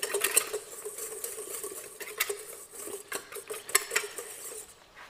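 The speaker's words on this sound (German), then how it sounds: "Einfach mal den Puderzucker mit dem Mehl mischen." Powdered sugar and flour being stirred together in a bowl during a cooking class, giving a steady scraping and patter of a utensil against the bowl with sharp clinks, close and moderately loud, without speech.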